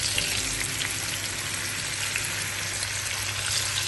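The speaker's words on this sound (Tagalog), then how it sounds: "Prito lang muna natin" Tofu sizzles and crackles steadily in hot oil up close, a dense, even frying hiss with no voices.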